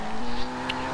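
A rear-wheel-drive car in Forza Horizon 2 drifts through a turn with a clutch kick: a steady engine drone with a brief rise in revs and a short burst of tire squeal.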